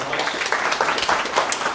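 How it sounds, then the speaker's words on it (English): A brief burst of crowd applause, many hands clapping in a steady patter at moderate loudness, with no voices standing out. "Big round of applause for all of them, guys."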